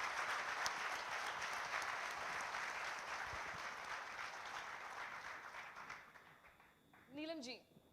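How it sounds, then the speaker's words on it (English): A sustained round of audience applause welcoming guests to an on-stage conversation, steady clapping for about six seconds that fades out, followed by a short burst of music at the end. "Let's just hear a loud round of applause to welcome our guests as we start this conversation."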